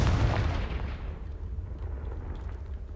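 A loud, deep blast from the Confringo fire spell in Hogwarts Legacy bursts at the start, then rumbles and decays over the next few seconds into a low fading roar.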